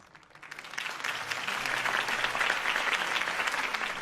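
Crowd applause in a Batman video game scene at a Harvey Dent campaign rally, a dense clapping swell that rises quickly and holds steady at moderate distance.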